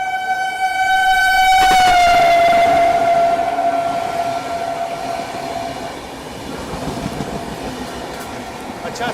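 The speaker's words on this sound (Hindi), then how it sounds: "ये ट्रेन दूसरी बार ओवरटेक कर रही है हमको।" The Suheldev Express overtakes on the adjacent track, its horn sounding a long, loud tone that sags in pitch as it passes close by, followed by the steady rumble and clatter of the train running alongside.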